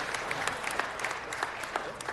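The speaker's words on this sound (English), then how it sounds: "Let's give them one more round of applause." A room of attendees at a city council meeting gives a round of applause, with brisk, crisp claps forming a continuous wash punctuated by distinct louder hand strikes, fairly close and steady throughout.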